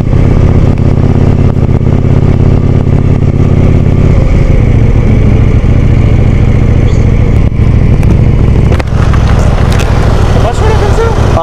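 Loud, close KTM 790 Duke motorcycle engine running throughout, shifting in tone around four seconds as it pulls away, with riders talking over it.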